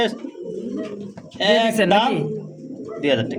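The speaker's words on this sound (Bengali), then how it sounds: "ভাইয়ের হাতে কিন্তু দুইটা কবুতর আছে" A pair of pigeons held in someone's hands at a bird market coo in soft, rolling bursts close by, while people talk around them.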